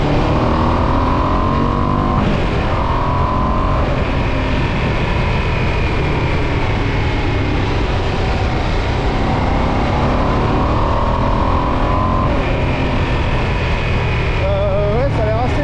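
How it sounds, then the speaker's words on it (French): A 2025 Ducati Streetfighter V2 motorcycle in A2 restricted form, its small engine running loud and close with a continuous throaty drone and rising revs, wind noise over it and no voices. "Petit moteur, il ronronne, ça vibre un peu dans la selle"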